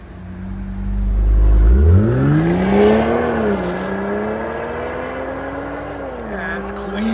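A 2025 BMW X5 xDrive50e 3.0L inline-six hybrid fitted with a Flowmaster 80 Series exhaust starts up with a deep rumble, then revs in rising, falling sweeps before settling, loud and close.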